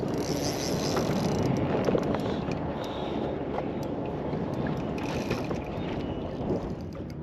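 A boat rushes past on open water beside an angler, a loud broadband engine and hull wash with wind noise, steady throughout and without any talking.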